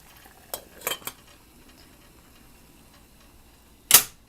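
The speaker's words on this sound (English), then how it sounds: "Now I'm going to cover my beans" A lid is set on a pot of green beans at a rolling boil on the stove, giving a few quick metallic clinks around half a second to one second in, then one louder clatter near the end, close and alone.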